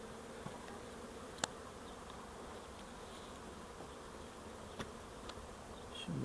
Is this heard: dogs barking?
no